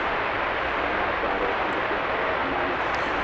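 An American Airlines passenger jet descends on approach to land at DFW Airport at night, a steady broad roar of engine and airflow holding at an even loudness throughout, fairly close and with no talk.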